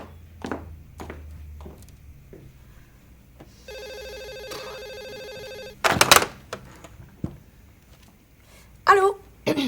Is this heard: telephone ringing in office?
yes